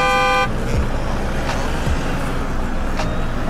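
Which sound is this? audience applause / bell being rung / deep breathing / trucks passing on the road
trucks passing on the road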